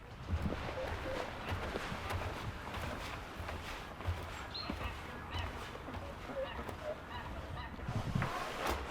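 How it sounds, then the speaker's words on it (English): Geese honking somewhere out in thick fog, heard faintly from a high vantage point as scattered calls over a steady outdoor wash of background noise. "I can hear the birds from up here."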